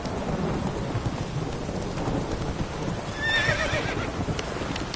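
Roach the horse neighing in The Witcher 3 video game, a short whinny rising over a dense rumbling bed of rain, thunder and hoofbeats, the call fairly faint within the mix.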